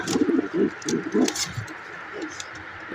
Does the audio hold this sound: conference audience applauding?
no